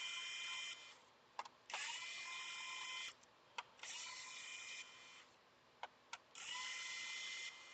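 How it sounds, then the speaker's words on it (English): Small electric screwdriver removing screws from an RTX 3080 Ti graphics card, with three short whirring bursts separated by faint clicks and taps. The sound is close but quiet. "If I remove a few more screws of these,"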